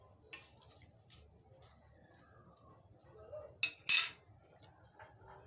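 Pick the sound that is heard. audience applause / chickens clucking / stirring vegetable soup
stirring vegetable soup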